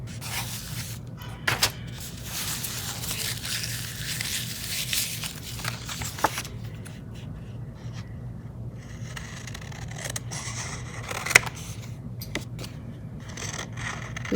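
Scissors snip through paper while cutting cardstock and napkin crafts, a few sharp separate snips and crinkly scraping rustles scattered across a quiet, close background.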